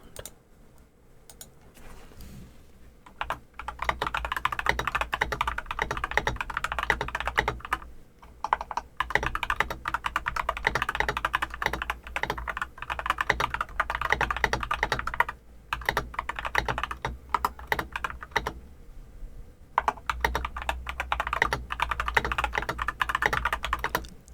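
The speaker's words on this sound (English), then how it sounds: "I really love my cute little Cabbage Dog keyboard." A Cabbage Dog mechanical keyboard is typed on in continuous close bursts of crisp clacky keystrokes, with a few brief pauses between runs and no talking.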